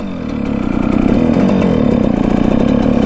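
A Suzuki RM125 two-stroke dirt bike engine idles steadily with a fast, buzzing, slightly uneven putter, loud and close, with no voices.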